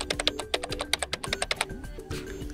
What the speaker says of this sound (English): just type in the numbers